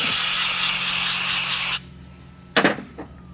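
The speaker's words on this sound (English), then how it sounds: "we're going to clean the plastic gauge off of each journal and off of each bearing cap with a little bit of brake clean" Brake cleaner sprayed onto engine crankshaft bearing caps and journals makes a loud, steady aerosol hiss lasting nearly two seconds, then stops abruptly, followed by a couple of short spray bursts.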